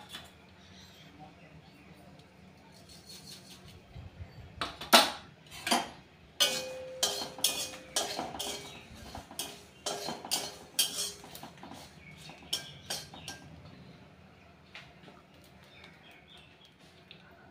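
Chillies and black cumin are dry roasted in a pan, with irregular scraping and clinking strikes of a spatula against the metal, faint at first and then a busy run of sharp knocks that fades out, under occasional speech.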